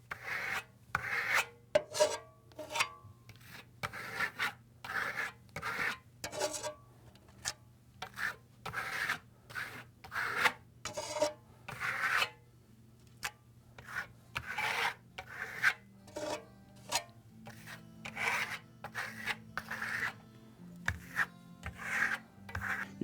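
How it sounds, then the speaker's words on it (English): A blade presses thin plaster across a fresco wall in repeated short rasping strokes, each scrape a distinct burst with brief gaps between, close and steady in rhythm. "always very minimum plaster under the blade, and we're applying it by putting pressure on the surface"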